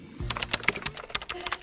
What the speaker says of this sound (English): Kalina resumes her busy typing.